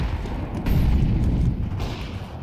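A grenade goes off in Counter-Strike 2 gameplay, a deep, heavy low boom swelling up and rolling on for a couple of seconds before slowly fading, loud and close with no voices over it.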